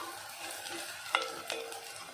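Onions sauté with a little salt in a pan for paneer butter masala, giving a soft, quiet, steady sizzle with two brief sharp clinks of a spoon against the pan.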